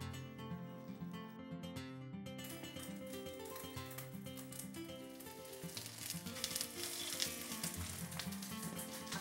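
Beef jeon, thin beef slices lightly coated in corn flour, sizzles steadily in a hot pan for the whole stretch, with continuous crackling frying noise under a bed of tonal background music.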